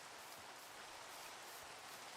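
Steady rain falling in the Minecraft video game, a soft continuous hiss of drops with faint rustling texture, quiet and even throughout with no talking.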